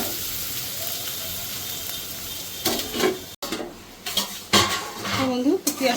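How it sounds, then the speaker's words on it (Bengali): Sliced onion lightly frying in a pan for a doi katla (fish in yogurt) dish, a soft steady hiss broken by close, sharp clinks and scrapes of a metal spoon stirring against the pan. "পেঁয়াজটা একটু হালকা করে একটু ভেজে নিই"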